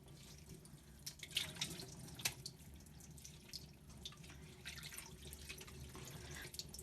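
Water from a tap runs steadily into a sink while intestines are rinsed for making mumbar, with a continuous faint splashing flow and occasional louder drips and sloshes.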